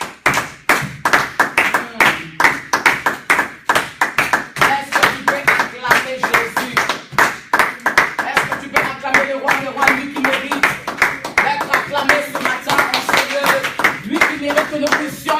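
A church congregation claps in a steady, brisk rhythm to acclaim the Lord, the hand claps loud and continuous beneath voices.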